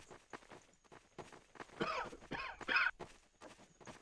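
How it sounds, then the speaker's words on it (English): A game character coughs in Garry's Mod on a backrooms map: a few rough, broadband bursts cluster in the middle of the clip, fairly close and louder than the quiet, muffled background around them. "Oh, more coughing. Someone's coughing."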